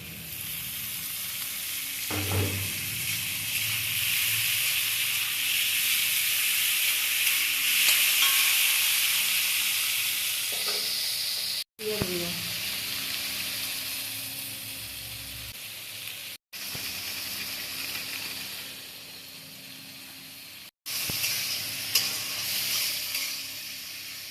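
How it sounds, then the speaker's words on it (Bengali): Potatoes, onions and curry leaves sizzle loudly in a hot pan, a steady frying hiss with occasional scraping and clunks of stirring. "এটা ভাজা ভাজা হবে"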